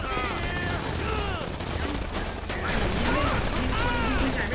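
Gunfire in GTA V sounds in rapid bursts of shots and mechanical clatter amid dense, loud game noise, with a voice speaking over it.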